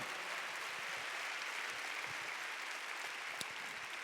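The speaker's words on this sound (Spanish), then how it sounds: "Dale un fuerte aplauso a la palabra del Señor." A church congregation applauds steadily during a Spanish-language sermon, a dense, even patter of many hands held at a constant, fairly soft level, with one brief sharper clap near the end.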